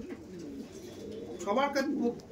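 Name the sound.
pigeons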